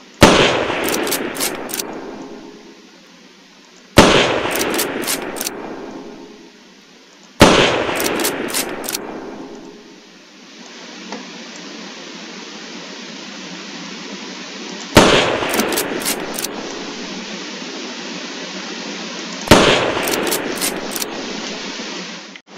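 Falca rifle fired in the game Unturned: five sharp, loud shots, each with a quick metallic rattle of mechanical clicks, spaced a few seconds apart, each one decaying into a lingering tail, and no voices.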